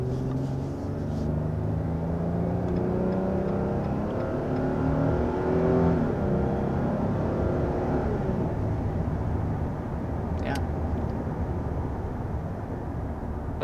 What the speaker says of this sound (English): This is the 9-speed automatic transmission at work.